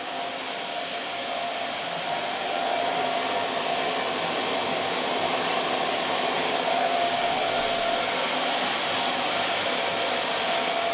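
A hair dryer blows steadily and loudly at close range while drying short hair, a continuous whooshing hum with a faint whine and no speech.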